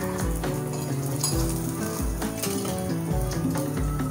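Food shallow frying in oil in a pan after being flipped gives a steady, dense sizzle and crackle throughout, close and loud, with a few soft low thumps underneath.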